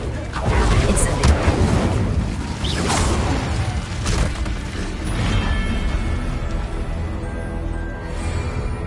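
Incendio fire spell cast in Hogwarts Legacy, a whooshing burst of flame amid clattering mechanical game sounds and continuous background effects, with several swishing surges across the stretch.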